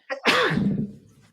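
One loud, close sneeze from a person on a wrestling podcast: a short intake of breath, then a sharp explosive burst that trails away over about a second.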